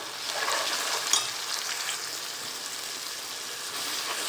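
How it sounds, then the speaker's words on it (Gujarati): Masala being stirred into onions frying in a pan for chicken curry, a steady close sizzle with soft scraping and a brief clatter near the start, no voices. "આપણે એમાં મસાલો એડ કરીને ફેરવશું બરાબર"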